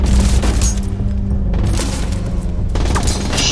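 Heavy gunfire rattles in The Division 2, a loud sustained barrage of booming shots with a couple of sharp bursts breaking through near the end, no voices.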